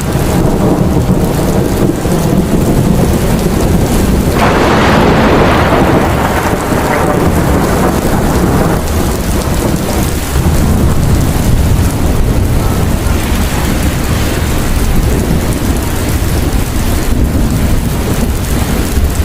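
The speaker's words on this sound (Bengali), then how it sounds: "বাহিরে ধুমসে বৃষ্টি শুরু হয়ে যায়, অনেক মেঘের গর্জন" Heavy rain pours down outdoors in a loud, steady downpour while thunder rumbles and swells through the middle, continuing without any voices.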